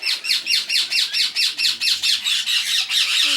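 Parrots in an indoor bird room squawk loudly and repeatedly in a steady, rapid rhythm of harsh calls, close by and continuous with no talking.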